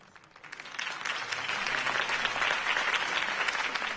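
Steady applause from a large crowd in a Batman video game, building quickly after a quiet start and holding at a full, even level.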